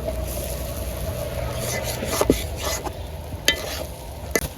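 An egg fries slowly over low heat in a little oil, a soft steady sizzle with occasional light scrapes and clinks of a utensil against the pan.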